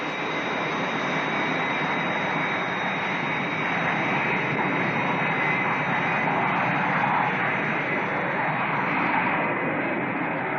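An airliner on approach for landing at Nice Airport, heard as a steady, continuous jet engine drone with broad hiss that holds at an even level throughout, with no talking.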